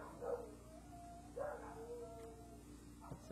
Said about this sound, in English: my dogs are going crazy upstairs again